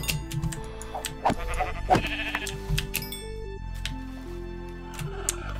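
Sheep bleat in the video game Minecraft, a few distinct bleats heard clearly over background game music.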